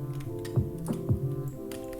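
A few quick keystrokes on a computer keyboard while deleting code, soft taps in a short uneven burst over a steady low hum, with no one speaking.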